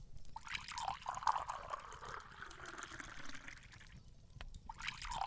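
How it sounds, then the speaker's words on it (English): Tea poured into cups, a faint, steady trickling stream with a few soft drips, quiet and close. "pour us both some tea"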